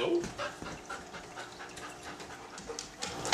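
An anxious dog pants quickly and steadily after a knock at the door, soft breathy rhythmic huffs heard up close over faint room noise.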